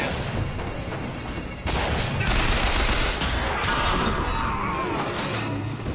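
Gunfire in the video game BioShock Infinite, a dense, loud burst of rapid shots and crashing impacts that begins abruptly and continues steadily for several seconds.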